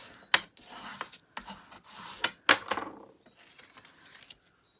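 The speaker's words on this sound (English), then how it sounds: "You can fold and burnish that." Scored cardstock for a handmade Stampin' Up! card is folded and burnished, giving a series of short scraping rubs and crisp paper swipes at close range, with no talking.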